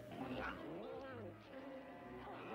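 A cat's snarling caterwaul and yowls as it attacks in a 1970s TV monster movie, warbling cries rising and falling over dramatic soundtrack noise.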